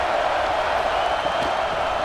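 A steady, dense stadium crowd roar fills the whole stretch in the College Football 26 video game during a simulated Nebraska vs UCLA matchup, an even wash of cheering with no distinct claps or isolated shouts.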